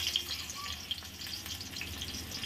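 Asafoetida and two dried red chillies hit hot mustard oil in a pan, giving a steady, fine spluttering crackle with scattered sharp pops, fairly quiet and with no one talking.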